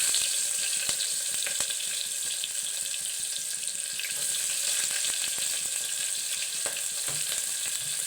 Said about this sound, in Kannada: ನೋಡಿ, ಎಣ್ಣೆ ಕಾದಿದೆ. ಇವಾಗ ಈರುಳ್ಳಿ ಹಾಕ್ತಾಯಿದ್ದೀನಿ.